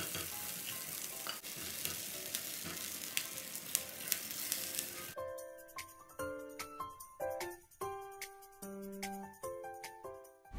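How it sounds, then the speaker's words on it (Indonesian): Peanuts, chilies, garlic and shallots fry for sambal with a close, steady sizzle for about five seconds. After that, bright tinkling tones take over and the frying drops away. "Bahan-bahannya digoreng dahulu baru dihaluskan."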